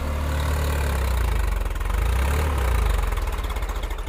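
A Swaraj 855 4x4 tractor's diesel engine runs steadily close by, a loud, even low rumble with a rhythmic pulsing throb and no talk over it.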